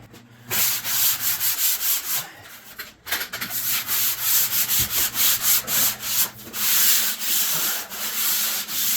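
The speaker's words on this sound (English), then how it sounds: "we want to sand this part down" Hand sanding along a drywall edge gives a loud, close, steady scratchy rasp in rhythmic back-and-forth strokes, continuing almost without pause and with no talking.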